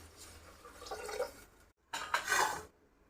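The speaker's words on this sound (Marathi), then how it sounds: "आता मी पाणी टाकत आहे." Water poured into a pressure cooker holding rice and garlic fried with curry leaves, a splashing pour in two bursts with a short pause between, close and fairly quiet, with no talking.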